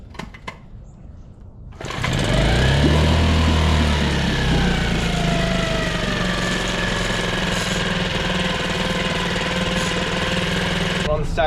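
A Nissan outboard boat motor cranks and catches after repair, then runs steadily and loudly with a low droning rumble and rattly mechanical knock that persists to the end.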